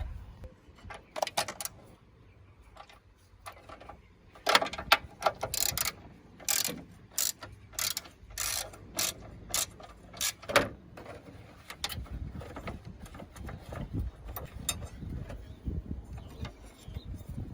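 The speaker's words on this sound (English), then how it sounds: "next, we're going to remove that 10mm bolt right here." Ratchet wrench clicking in repeated bursts as it backs out a 10mm bolt on the radiator of a 1998-2002 Mercedes-Benz E320 W210, close and loud with short pauses between runs of fast clicks.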